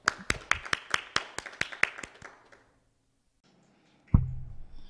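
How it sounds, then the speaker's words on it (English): At a Bhagavad Gita summit, a speaker is welcomed with a short run of about a dozen sharp, evenly spaced claps that fade out, followed by a pause and a single dull thump. "Please join me welcoming Nitai Sevini Mataji with a big round of applause."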